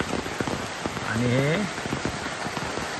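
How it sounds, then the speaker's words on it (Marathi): Heavy rain pours down steadily near a house where a gate is being built, a dense close hiss with scattered drips throughout, and someone speaks briefly over it midway. "पाऊस तर जोरदार चालू झाला"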